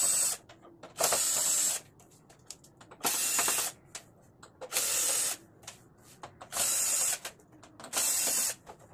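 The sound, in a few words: unscrewing screws to remove LED TV backlight panel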